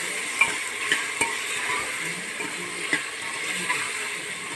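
Taro root (arbi) frying in a pan with turmeric and salt, giving a steady close sizzle with occasional light scrapes and taps of a utensil against the pan.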